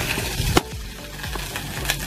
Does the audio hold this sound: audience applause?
no